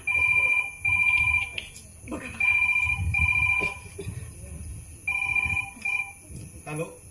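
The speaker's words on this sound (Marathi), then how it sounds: "काका नक्कीच तुमचा फोन" A telephone rings in repeated electronic double bursts, fairly loud, with people talking in between the rings.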